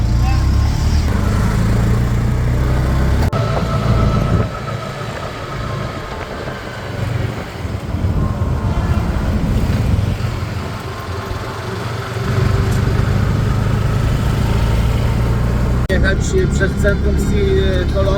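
Heavy traffic of motorbikes and cars in Colombo, Sri Lanka: a constant low engine rumble and idling drone from nearby vehicles that persists throughout, with a person talking over it.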